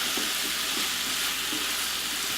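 Ground turkey meat frying in a pan, a continuous close hiss and sizzle with faint stirring scrapes and no voices.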